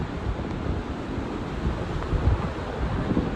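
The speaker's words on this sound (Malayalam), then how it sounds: "അതുപോലെ തന്നെ ഇങ്ങനെ കൊത്തി ഒലിച്ചിട്ട് വരുന്ന വെള്ളമാണ്. നല്ല മഴയുണ്ട്." Heavy rain and floodwater pour down a waterfall in a wadi in Fujairah, UAE, a steady close roar of rushing water with wind buffeting the microphone and no voices.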